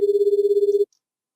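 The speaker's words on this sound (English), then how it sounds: "my phone started ringing before I had the chance to finish my train of thought" Phone ringing in the video game Dies irae: a steady electronic ring tone pulsing in quick regular bursts for under a second, then cutting off abruptly into silence.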